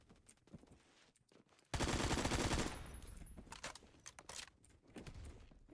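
Assault rifle fire in the video game Phantom Forces erupts as a dense, loud burst lasting about a second, followed by scattered shots and clattering game sounds over a quieter background.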